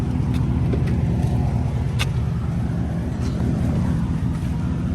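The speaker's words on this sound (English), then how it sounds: "I can rev the car." Car fitted with TSP headers and a tune, sitting in park, holds a loud steady engine drone with deep low rumble throughout, a continuous close exhaust note rather than distinct rev spikes.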